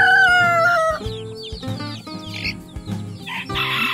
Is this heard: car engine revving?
no